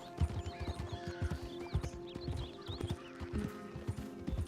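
Horse hooves clip-clop in a quick, steady rhythm at close range in the video game Red Dead Redemption II, with a horse's whinny and snorts in the background.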